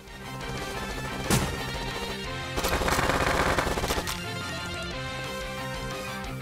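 Machine gun fire in Panty Party on Nintendo Switch, a continuous rapid rattle of shots with two louder, denser bursts partway through, close and loud, no talk.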